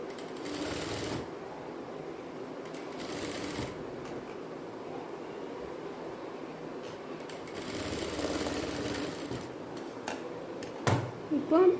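A sewing machine stitches a silk skirt with short rattling bursts of stitching and pauses between them, under quiet talk, ending with a few sharp clicks.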